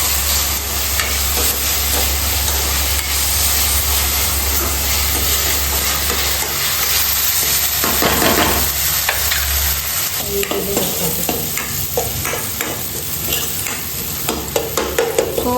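Onions and tomatoes fry and sizzle in a pan for an egg curry while being stirred, giving a steady hiss broken by repeated scraping strokes, loud and close, with no talking.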